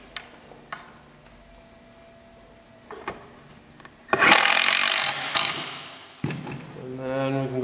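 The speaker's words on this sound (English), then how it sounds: "Where it's flush, screw it in." Screws are driven into a wooden galley panel with a power driver: light tapping and handling sounds, then a loud, close whir that lasts about a second, followed by a rising, pitched motor whine as another screw goes in.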